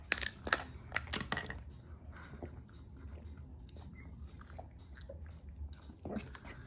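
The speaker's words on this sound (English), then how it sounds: "Take a bite of the french fries burger." Someone bites into a McDonald's french fries burger, giving a few crisp, sharp bite crunches up close at the start, then softer irregular chewing and smacking sounds that continue quietly.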